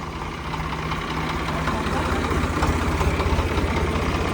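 A motor runs on a farm during corn silage work, a steady, low, throbbing drone that grows slightly louder, with people talking over it.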